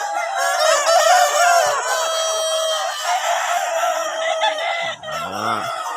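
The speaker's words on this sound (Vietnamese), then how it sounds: "Đây là gà trống, đây gà mái, còn bên đây là gà trống này" Roosters and hens crow and cluck loudly and close together in a continuous overlapping chorus at a chicken-raising farm, with one low drawn-out crow near the end.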